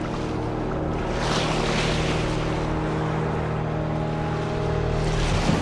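Open-ocean ambience from the shark film Shark Attack 3: Megalodon, a steady loud wash of waves and wind with a low droning hum underneath, no voices.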